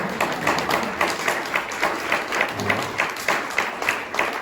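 An audience at a writers' series author talk applauds warmly. The clapping is moderately loud and crowded, and it continues at a fairly even level for about four seconds.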